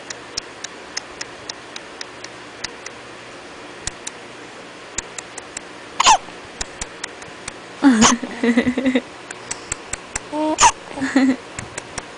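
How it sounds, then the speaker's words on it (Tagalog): A two-month-old baby hiccups in short, sharp bursts at irregular intervals, with faint ticking clicks throughout and a few brief louder vocal sounds. "kasi sinisinok si baby ko."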